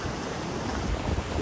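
Strong sea waves surging onto a beach on the Fujairah coast on a rainy day, a steady loud roar of surf mixed with wind buffeting the microphone, no speech.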